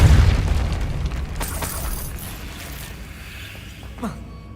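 A Depulso spell in Hogwarts Legacy bursts out as a loud, booming blast at the start, then a rumbling, creaking decay with a small pop near the end.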